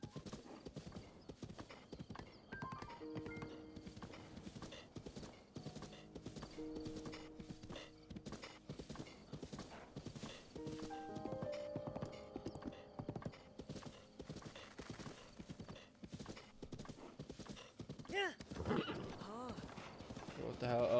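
Horse hooves clip-clop in a steady galloping rhythm through Breath of the Wild, close and continuous, with occasional whinnies and voices layered over the hoofbeats.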